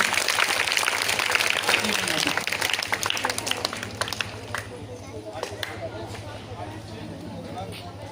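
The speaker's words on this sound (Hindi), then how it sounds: "तालियां बजा लो भाई, तालियां बजा लो।" Audience clapping at a school GK quiz competition function, a dense round of applause that is loud for the first few seconds, then thins out and fades toward the end, with voices talking over it.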